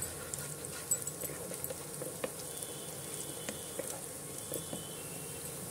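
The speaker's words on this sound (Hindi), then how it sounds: "डाल के हमें भी इसको प्याज के साथ फ्राई कर लेना है।" Finely chopped green chillies frying with onions in a pan, a soft continuous sizzle with occasional light clicks and taps, fairly quiet and without voices.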